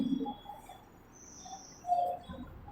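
Birds chirp and coo in short, scattered calls over a quiet background, with one louder call near the end.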